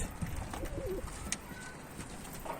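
Kosova pigeons cooing inside a coop, soft low coos repeating close by over a steady rustling background, with a brief brighter call in the middle and no speech.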